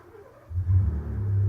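A 2017 Ford F150 pickup's engine cranks and catches about a third of the way in, then settles into a loud, steady low idle rumble close by, with no voices.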